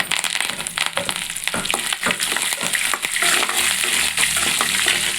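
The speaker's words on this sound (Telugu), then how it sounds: "మాడిపోకుండా చూడండి ఇలా వేయించుకొని కొంచెం కరివేపాకు వేసుకోండి" Whole spices and curry leaves fry in a pan over a low flame as tempering for a coriander stone-ground chutney, giving a steady, close crackling sizzle that runs continuously with no talk.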